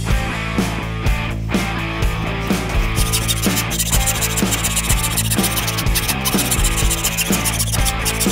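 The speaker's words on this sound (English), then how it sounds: "then I can take a file and some sandpaper and round over the entire neck" A file and sandpaper work the wood of a Westone X390 Pantera guitar neck in rounding strokes, giving a continuous dense rasping and rubbing that fills the whole stretch and carries no voice.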